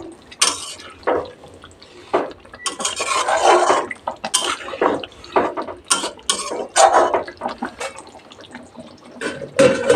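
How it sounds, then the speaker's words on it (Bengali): A pot lid is lifted off and a fish curry with aar fish is stirred gently, giving repeated metal clanks, scrapes and clatter against the pot with a soft bubbling underneath, loud and close. "একবার ঢাকা তুলে হালকা হালকা হাতে নাড়িয়ে দিচ্ছি"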